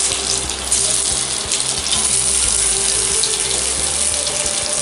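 Cabbage muthiya dumplings frying in oil with three dried chillies, a steady, dense hiss of sizzling that stays loud and even throughout, with no talk.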